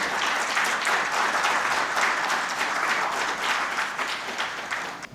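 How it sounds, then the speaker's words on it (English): A large audience at an education conclave applauds steadily and loudly, dense clapping sustained evenly for several seconds without a break. "Can we have a loud round of applause for him"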